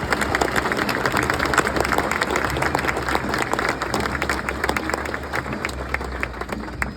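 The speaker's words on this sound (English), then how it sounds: "How about another round of applause for Elisa?" Steady, dense applause from a large crowd at a 9/11 stair climb at Lambeau Field, honoring a national anthem singer; continuous clapping holds evenly throughout with a faint low engine-like rumble underneath.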